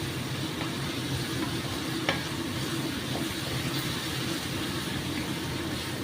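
Bombay duck fish frying in hot oil gives a steady, dense sizzle that holds evenly throughout, with one faint click partway and no talking.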